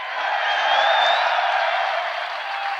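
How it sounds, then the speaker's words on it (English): A large crowd at a UFC press conference roars with cheering and applause, a loud, dense, continuous wash of clapping and shouting that swells slightly and holds for a few seconds. "get a crowd like this cheering for you as well"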